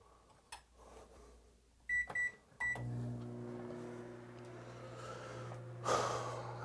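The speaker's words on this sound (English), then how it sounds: "you don't want to put oatmeal in the microwave for too long at a clip" A microwave oven heating oatmeal gives a few keypad beeps, then a steady low hum runs on with a faint rattle, and a soft sniff or breath cuts in near the end.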